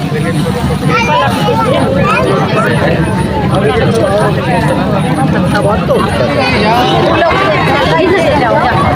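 A large, dense crowd of children chatters and shouts all at once, a loud continuous babble with no single voice standing out, as they push forward to collect pens and pencils.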